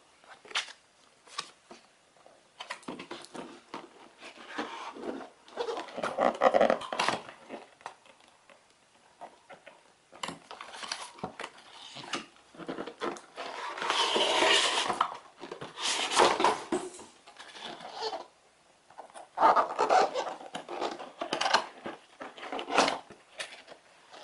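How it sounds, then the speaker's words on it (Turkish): Cardboard box of a TP-Link TL-WDR7500 router being opened by hand, with scattered rustles, scrapes and soft knocks coming in irregular bursts close up. The handling is quiet, with short pauses between bursts. "Evet, kutumuzu açıyoruz."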